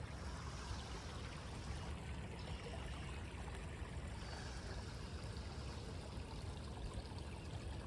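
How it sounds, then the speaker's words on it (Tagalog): Water flowing steadily among leaves outdoors, a constant soft rushing and trickling stream that stays even throughout, moderately faint with no voices. "Tubig."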